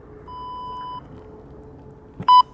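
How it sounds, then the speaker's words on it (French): Electronic beeps from a workout interval timer during a HIIT and strength session: a steady tone of under a second, then quiet, then a short louder double beep near the end. "Je lance le chrono et c'est parti. Tu entendras le chrono juste à côté"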